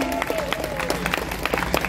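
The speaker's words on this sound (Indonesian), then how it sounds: "Kita beri tepuk tangan." A small church congregation at Stasi Berambai claps together after a ribbon-cutting ceremony, scattered hand claps rising over a murmur of voices nearby.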